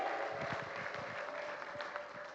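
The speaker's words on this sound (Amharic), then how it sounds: "ለእግዚአብሔር ክብር እልልታና ጭብጨባ ያመጣለታል" A church congregation clapping and ululating in praise during a Christmas sermon, the applause fairly distant and soft, with a sustained high trilling ululation running through it.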